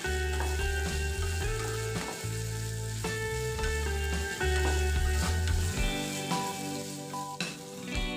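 Tomato and onion mixture frying in a pan, a steady sizzle with occasional stirring, running under loud background music with a prominent bass line.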